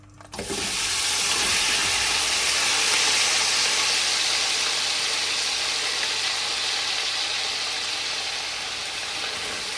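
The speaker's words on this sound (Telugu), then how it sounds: "మొత్తం కేజీ వేరుశనగ నూనె పీనట్ నూనె వేడెక్కిపోయింది ఆయిల్ ఇప్పుడు పీతలు వేసుకుంటున్నాను" Crabs drop into a kilo of hot peanut oil and set off a loud, steady, close-up hissing sizzle that holds without a break and fades only slightly.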